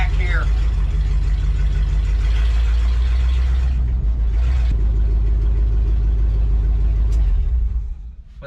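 A 1959 International B100 truck engine runs steadily with a deep, loud rumble near at hand, its low drone holding throughout before cutting off at the end; no one speaks.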